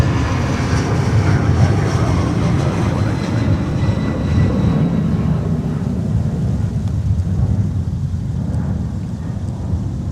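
An airliner departing Minneapolis–St. Paul airport for Las Vegas on a winter day gives a deep, steady engine rumble that is strongest early and slowly fades as it climbs away, heard alone without talk.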